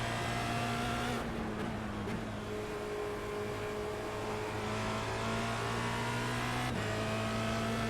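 A Formula Renault 2.0 race car at Oulton Park in a racing game, its engine droning loud and steady near the listener, with quick gear-change dips and renewed revving, and no talk.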